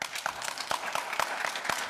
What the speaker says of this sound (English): let's try to hold our applause so that we can run through this fast